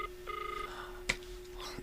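A phone dialing a cellphone number gives soft, steady electronic tones with a sustained hum and a brief click partway through, faint and close with no voices.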